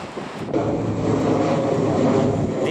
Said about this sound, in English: so you have planes taking off on your head like all the time